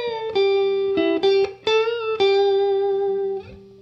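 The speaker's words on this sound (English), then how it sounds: "lots of really, really nice tones that come out of this B-bender unit" Sustained electric guitar notes bent up and down by a Rolling B-bender unit, played alone in a slow phrase of held tones with bends and short note changes.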